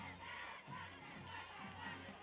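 Crowd at a 1996 high school football game between Hawthorne and Torrance roars and shouts continuously in the fourth quarter, a broad sustained cheer heard from a distance.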